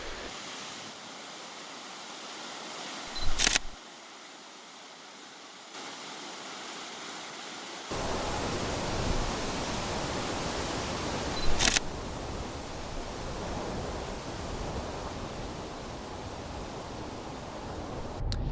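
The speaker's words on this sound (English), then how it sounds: "It was time to see another waterfall" An Icelandic waterfall roars as a steady broadband rush of falling water. It grows louder partway through, and two sharp camera shutter clicks stand out.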